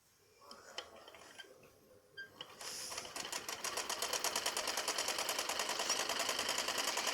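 A sewing machine runs steadily, stitching the joined belt section of a belt salwar; quiet handling clicks come first, then a rapid, even mechanical chatter that holds loud and close to the end.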